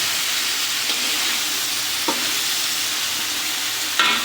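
Spices and potato sautéing in hot oil for a puti fish curry, a loud continuous hiss and sizzle with a few faint scrapes of stirring, no voices.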